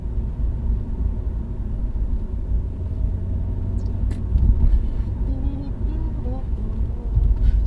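A car engine drones steadily at low speed on a slow test drive after the bonnet flew open, a constant close rumble with road noise and a few brief interior sounds.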